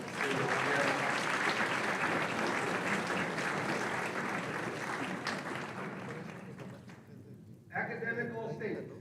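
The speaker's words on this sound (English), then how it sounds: "Round of applause, son." At a high school varsity athletic banquet, a crowd claps loudly and steadily for an honoree, the dense applause tapering off before a voice briefly speaks near the end.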